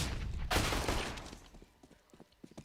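A gunshot headshot in Counter-Strike on the Cache map, heard as a sharp burst of gunfire followed by scattered quieter clicks and game noise that fade out.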